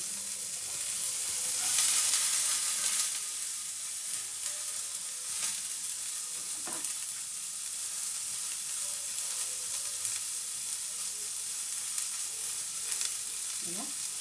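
Steady sizzling and crackling of chopped beetroot frying in a hot pan, with occasional soft scrapes of stirring; no talking.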